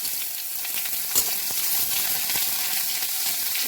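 Onions sizzle and crackle steadily in hot oil, a dense, continuous frying hiss with a brief stir partway through.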